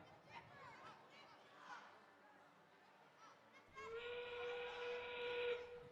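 A long, loud whistle blast signalling the endgame period of an FTC robotics qualifier match sounds over the noisy arena crowd, with announcer speech before it.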